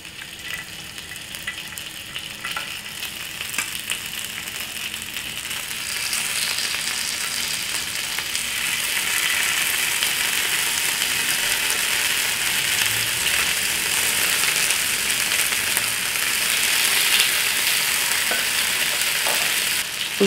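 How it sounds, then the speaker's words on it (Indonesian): Honey-glazed chicken pieces grilling in an oiled Teflon pan over a lit flame, a steady crackling sizzle that grows louder and brighter after a few seconds and holds, close up with no voices. "Kita nyalakan apinya, bismillahirrahmanirrahim. Ayamnya dipanggang."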